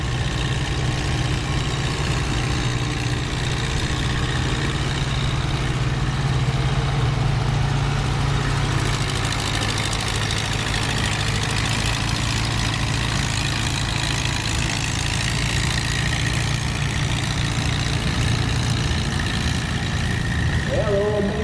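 Tractor engines rumble steadily on a tractor pull track, a continuous low droning hum at moderate distance with a commentator talking over it.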